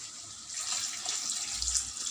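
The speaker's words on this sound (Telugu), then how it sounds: "నీళ్ళు పోసుకున్నాము." Water poured into a pan of stuffed eggplant masala curry with tomatoes, a close continuous splashing pour that runs for about two seconds.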